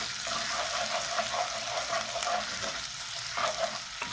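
Chopped garlic and ginger fry in hot oil for palak paneer, giving a steady, close, dense sizzle that holds evenly throughout with no talking.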